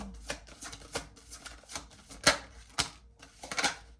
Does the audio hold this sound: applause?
no